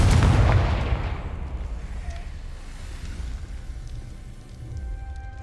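A Confringo fire spell bursts in Hogwarts Legacy, opening with a loud, heavy blast whose rumble rolls off and fades into a low, lingering crackle.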